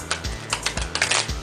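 A thick-stock tarot deck is shuffled in a quick burst of crisp, papery riffles and snaps, several sharp clicks bunched together, close and loud.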